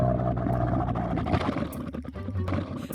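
A camel lets out a low, grumbling roar, close and moderately loud, that gurgles and breaks into uneven bursts over about three seconds.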